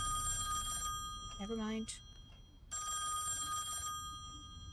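A ringing telephone in a video game trills in two long bursts separated by a short gap, with a person speaking briefly between the rings.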